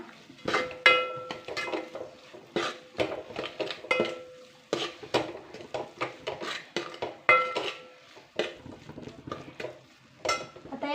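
Salt and masala are mixed in a pot for egg curry: repeated metallic scraping and clinking of a spoon against the pot in an irregular stirring rhythm, close and alone without speech.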